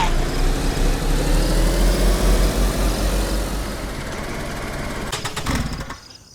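A car engine idling in the video game DayZ, a loud continuous low rumble that drops in level midway and then cuts out with a few clunks near the end; no speech.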